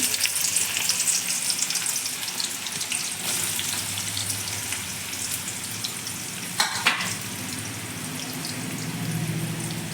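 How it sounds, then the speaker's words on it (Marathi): Onion sizzling steadily in hot oil with cumin seeds, a continuous close hiss with a few brief sharper crackles near the middle and no talking. "तेल पण क म्हणजे गरम झालेलं आहे आता कांदा टाकते"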